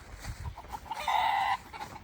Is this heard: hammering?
no